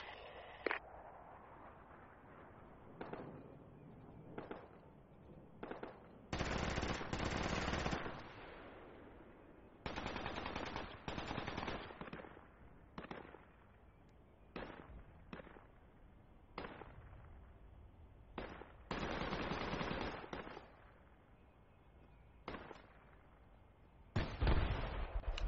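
Video game shooter gunfire on a map with mosques: repeated bursts of automatic fire and single shots, some sustained rattles, others brief, at mid distance with no talk.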